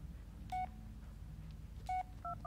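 Mobile phone keypad tones in the Blair Witch video game: a few short electronic dialing beeps, one alone, then a quick cluster near the end, clear over a low background hum.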